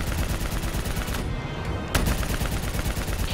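Sustained automatic gunfire roars through a Call of Duty: Black Ops 3 firefight, loud and continuous, with one sharp louder blast near the middle.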